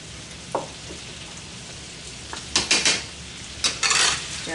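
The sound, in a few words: stirring canned potatoes with cumin in a pan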